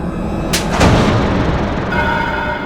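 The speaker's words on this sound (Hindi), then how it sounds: "ये पटाखे बहुत अच्छे हैं, बहुत आवाज है इनकी।" Firecrackers exploding indoors in a room, a couple of sharp loud bangs in quick succession over a rumbling, noisy background with no talking.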